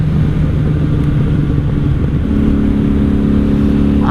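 A repaired 1997 Honda Magna 750 VF750C motorcycle on a road ride, its V4 engine rumbling loud and steady throughout, with a slight rise in engine note partway through.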